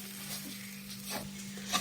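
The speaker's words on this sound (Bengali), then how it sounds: "আগে সুজিটা ভালোভাবে লাল লাল করে ভেজে নিই।" Semolina toasting with ash gourd in a pan, stirred now and then, makes a soft low hiss with gentle scrapes and a brief clink near the end, quiet and close.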